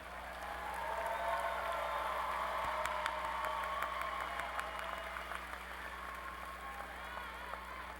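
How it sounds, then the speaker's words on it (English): Audience applauding graduates at a university spring commencement ceremony, steady distant clapping filling a large hall over a constant low hum, heard without talk. "Let's applaud the graduates from the College of Education and Health Professions."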